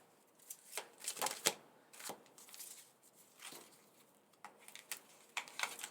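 A deck of tarot cards being shuffled, soft close riffles and flicks in irregular bursts with quiet gaps between them.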